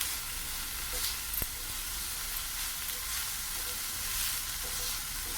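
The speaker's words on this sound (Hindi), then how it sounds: "और इसको हम अच्छी तरह भून लेते हैं" Salted potato filling fries in a pan with a soft, steady sizzle and gentle stirring scrapes, heard faintly up close, with one brief sharp clink partway through.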